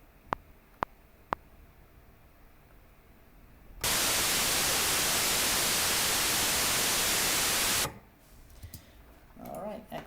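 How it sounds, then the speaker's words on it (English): Three sharp clicks, then a loud burst of flat white noise from a synthesized dance-production riser holds for about four seconds before cutting off abruptly, followed by faint clicks. "we've got some white noise there"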